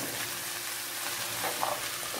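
Corn, peas and chicken sizzling steadily in a pan, a dense close hiss of frying with faint scraping from a stirring spoon underneath.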